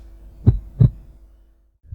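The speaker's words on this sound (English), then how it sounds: "The room was quickly filling with the old man's heartbeats." Heartbeat sound effect, two deep muffled thumps in quick succession, loud and close against quiet, followed by the faint start of another beat.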